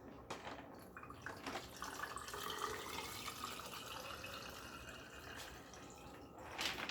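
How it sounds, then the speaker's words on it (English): White sangria poured into an infusion water bottle, a steady close liquid trickle and splash running for several seconds with faint clinks and handling noises, no talking. "You could quite easily pour this in to the bottle."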